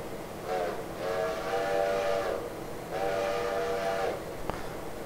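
A locomotive in the train simulator game Railroader sounds two long whistle blasts over a steady rumbling run, close and clear, with no voices.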